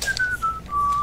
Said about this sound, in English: Whistling in an oblivious sort of way.